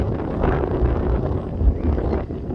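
Strong gusting wind rumbles against the microphone in a loud, low, continuous roar on an exposed high spot.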